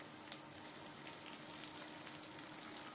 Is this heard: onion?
yes